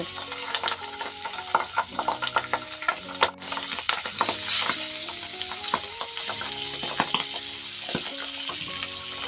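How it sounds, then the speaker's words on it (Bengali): Pabda fish sizzles in hot oil, with frequent metallic clinks and scrapes of a spatula against the pan, close by and busy throughout. "এখন পাবদা মাছটা আমি হালকা ভেজে নিব"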